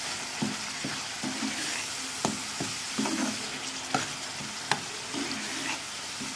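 A spoon stirs red chilli and turmeric into egg curry frying in a pan, with a soft continuous sizzle broken by sharp scraping knocks of the utensil against the pan.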